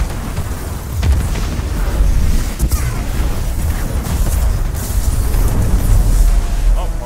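A Nova Bomb blast in Destiny 2 booms out loud and close, a dense low rumble sustained over several seconds of chaotic game combat, with no talk over it.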